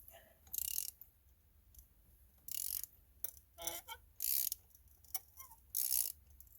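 Ratchet wrench set to loosen, turning a factory spark plug on a Ford Triton V10 in a 2000 Excursion; several separate bursts of quick clicking, close and fairly quiet, spaced with pauses.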